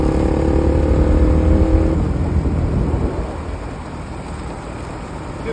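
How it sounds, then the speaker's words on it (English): Motorcycle engine braking on a downhill road with sharp curves, a loud close engine drone and wind rush that holds, then gradually fades and softens as the bike slows, with no talk. "Use the engine to slow you down."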